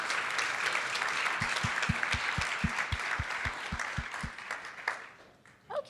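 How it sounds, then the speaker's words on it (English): Applause from a conference audience at the opening of NDSS 2022 fills the room in a steady wash, with a regular low tapping running under it, before fading out toward the end. "So please give a round of applause."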